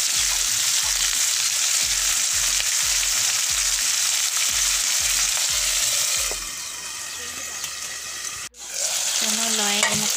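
Garlic leaves frying in a pan, with a rhythmic scraping of a stirring utensil pulsing for several seconds over a bright, hissing sizzle that then carries on steadily, close up and without speech.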